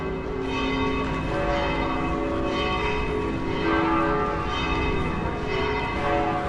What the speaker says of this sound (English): 12 o'clock, that's why all these chimes and bells are going.